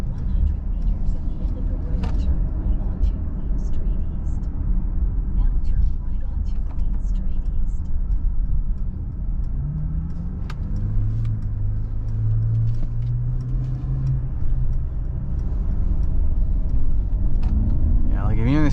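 A 2024 Mercedes-Benz GLE 350 driving on city streets, heard from inside as a steady low road and engine rumble with a brief rising tone midway, under continuous talking.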